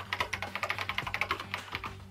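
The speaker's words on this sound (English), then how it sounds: "she started typing again" Rapid clicking keystrokes on a laptop keyboard in the game Danganronpa: Trigger Happy Havoc, a brisk, close, uneven burst of typing heard on its own.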